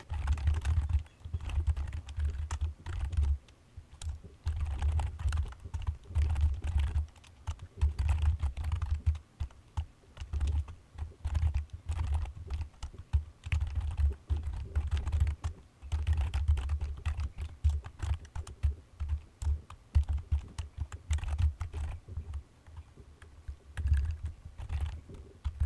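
Rapid, steady keystrokes of code being typed on a computer keyboard for a trading program, close and clear, continuing for the whole stretch with brief pauses and no talking.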